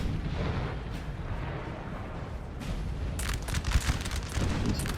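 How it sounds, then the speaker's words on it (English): Artillery fire in the Napoleon Total War video game, heard as distant muffled booms and rumbling under a steady noisy bed, with a denser burst of cracking reports in the second half. "I think this is my artillery here"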